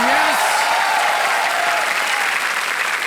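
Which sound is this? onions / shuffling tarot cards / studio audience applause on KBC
studio audience applause on KBC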